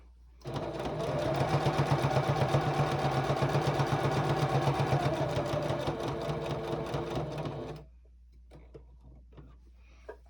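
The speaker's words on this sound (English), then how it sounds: "We're going to stitch right to that mark." A sewing machine stitches quilt binding on a gingerbread star table topper, running steadily and loudly for about seven seconds with a fast rhythmic whir before stopping abruptly into near silence.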